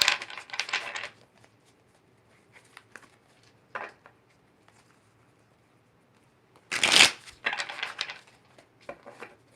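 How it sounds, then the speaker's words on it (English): Tarot cards being shuffled in short riffling bursts, a few crisp flutters separated by quiet gaps, with one louder, sharper shuffle near the end, close and dry. "let's shuffle, see what we can get"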